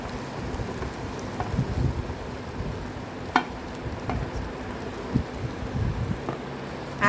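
Fried idli being stirred into masala in a pan, a steady soft sizzle with scattered scraping and clinking taps of the spoon, close and continuous with no talking.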